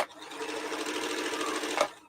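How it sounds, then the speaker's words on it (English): A Martha Stewart sewing machine stitching in a quick, even, rapid whirring run for about two seconds, close and steady before stopping abruptly. "Listen to it. oh, it's purring."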